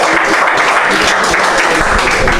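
Dense, sustained applause from a comedy show audience in Halle, loud and close, with steady clapping throughout and no speech.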